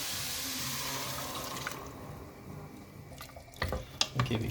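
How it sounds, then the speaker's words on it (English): Chickpeas and their cooking liquid poured back into a pan of caramelised pork belly: a watery pouring rush that fades, then a few splashing, bubbling sounds at the end, soft and without talk. "the chickpeas go back in with their liquid"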